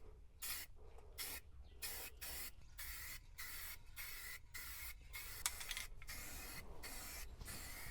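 Spray paint goes onto the welds of a farm manure tank in a quick series of close, sharp hissing bursts, about a dozen short sprays separated by brief pauses.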